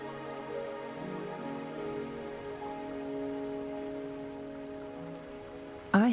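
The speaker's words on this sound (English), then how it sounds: "Are you trapped here by the rain?" Steady rain pattering on surfaces in the video game Wuthering Waves, a soft continuous hiss under faint tonal game music, ending with a brief sharp interface chime.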